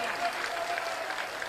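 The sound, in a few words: audience applause for the people of Bihar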